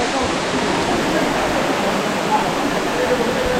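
A large, tall waterfall in Rangamati roars as a dense, constant wash of falling water, loud and close throughout with no other sound standing out.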